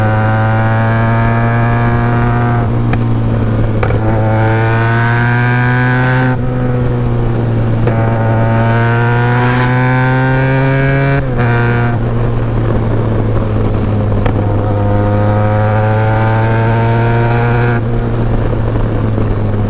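Benelli TRK 502 motorcycle accelerating hard to overtake, its engine note climbing through several gears in repeated rising sweeps with brief dips at each shift, loud and close with wind noise.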